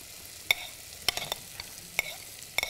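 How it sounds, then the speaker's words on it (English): Onions and cabbage being stir fried in a pan: soft sizzling with several sharp clinks and scrapes of a utensil against the pan, spaced irregularly, fairly quiet and close. "Are you stir frying those? Yes, I will stir fry them."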